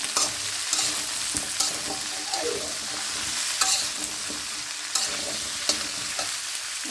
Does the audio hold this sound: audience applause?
no